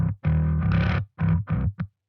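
Distorted bass guitar tone, a gritty, fuzzy sustained note followed by three shorter punchy notes with brief gaps, loud and upfront with no voices.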